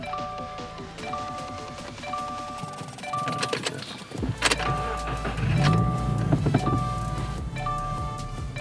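A Subaru WRX (2015 or later) audio head unit powering up inside the car, giving a short run of clear electronic tones that repeat at an even pace about once a second over a steady low cabin hum.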